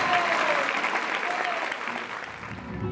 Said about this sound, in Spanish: Vamos a dar un aplauso fuerte al Señor esta mañana.